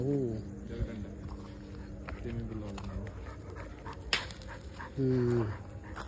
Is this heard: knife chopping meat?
no